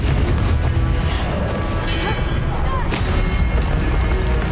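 Spell blasts and explosions in Hogwarts Legacy, a dense loud barrage of booms and bursts rolling on without pause, close and heavy throughout.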